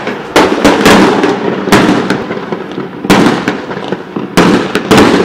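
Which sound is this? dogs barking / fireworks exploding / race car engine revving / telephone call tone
fireworks exploding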